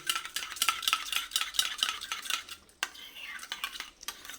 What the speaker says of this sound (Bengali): এবার ভালো করে আবার একটু ফেটিয়ে নিচ্ছি